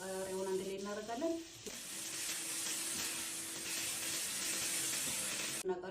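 Tomatoes and peppers sizzle in olive oil in a frying pan with garlic, a steady close hiss that starts after a short spoken line at the beginning and continues without a break.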